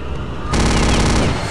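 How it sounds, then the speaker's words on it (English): Loud, sustained automatic gunfire in Return to Castle Wolfenstein during a boss fight, a dense rapid burst that swells after a moment and holds close and harsh. "Just keep shooting him."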